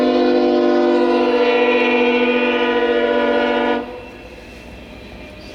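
A CSX freight train horn blares long and loud as the train passes in a blizzard, holding steady for several seconds and then cutting off to leave rumbling rail noise.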